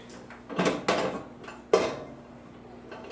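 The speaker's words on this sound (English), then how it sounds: "let's put in the plate with the carousel." A few hard clunks and rattles of a plate with its carousel being set down inside a regular-size Toshiba microwave, three distinct knocks spaced apart, close and fairly quiet.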